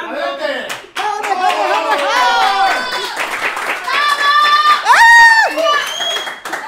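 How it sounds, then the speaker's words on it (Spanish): Audience at a comedy show claps and cheers loudly and continuously, with excited shouts and voices rising over the steady applause throughout. "¡Un aplauso!"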